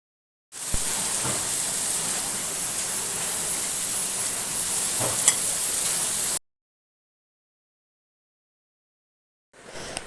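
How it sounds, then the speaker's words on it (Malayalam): Chicken, onion, tomato, ginger, curry leaves and coriander fry in oil for a sandwich filling, giving a steady, close hiss with a few light scrapes. After about six seconds it cuts to silence, then returns briefly. "ഇത് നല്ലതുപോലെ ഇളക്കി നമുക്ക് ആ എണ്ണയിൽ നല്ലതുപോലെ വഴറ്റി നല്ല ഒന്ന് പൊരിഞ്ഞു വരാനുണ്ട്."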